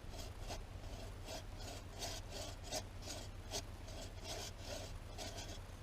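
A hacksaw rasps back and forth through a tree stump near ground level during a back cut, making a steady rhythm of gritty strokes, close and fairly quiet, with no talking.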